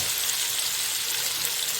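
Water poured into a hot pot of mandi rice with chicken sets off a steady, dense sizzle and hiss that continues unbroken and close, with no talk over it.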